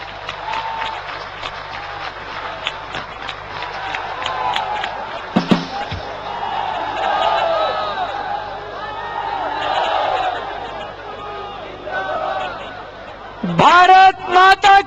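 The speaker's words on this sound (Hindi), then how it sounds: "एक बार जोरदार तालियों से अरविंद का स्वागत करिए।" A political rally crowd at Rajghat applauding loudly to welcome Arvind Kejriwal, with steady cheering and chatter from many people, then a burst of sharper, louder clapping near the end.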